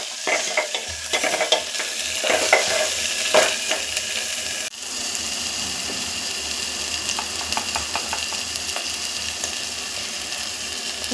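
Masala mixture for a North Karnataka buttermilk curry being whisked by hand, quick rhythmic scraping strokes, loud and close, busier at first and then settling into a steadier swish, with no voices.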